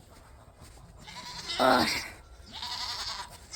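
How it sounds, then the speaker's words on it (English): Goats bleating on a farm in the first snow: two drawn-out, wavering bleats close by, the first louder, with a brief spoken grunt. "Hi, my goats!"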